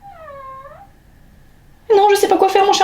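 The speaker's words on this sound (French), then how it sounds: "Petit chaton." A cat gives a drawn-out, wavering meow, then a loud, busy burst of louder sound takes over with a voice mixed in.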